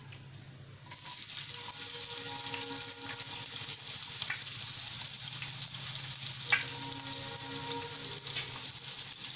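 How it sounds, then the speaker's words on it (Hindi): Chopped onion fries in hot oil in a pan for chole bhature, starting with a sudden sizzle as it hits. A loud, steady crackling hiss follows, with occasional stirring scrapes close by. "अब इसमें मैं 1 छोटा चॉप्ड अनियन डाल रही हूँ।"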